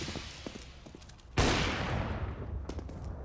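Rifle fire in Counter-Strike on the Overpass map, a single loud sharp shot with a long ringing decay, preceded and followed by faint smaller pops and clicks.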